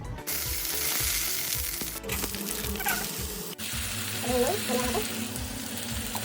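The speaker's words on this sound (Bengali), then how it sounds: "এবার কারি পাতাটাকে ভেজে নেবো" Homegrown curry leaves fry in hot oil in a pan, giving a loud, steady sizzle and crackle with occasional stirring scrapes and clinks.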